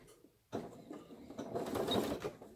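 A sewing machine stitching upcycled overdyed denim starts abruptly after a brief quiet moment, then runs in a steady mechanical whir that builds slightly louder, close by.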